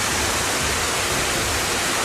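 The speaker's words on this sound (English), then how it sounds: "this is La Elsa Cascada, which is waterfall in Spanish" Rainforest waterfall at La Elsa Cascada, heard up close as a steady, loud rushing roar of falling water that fills the whole clip without pause.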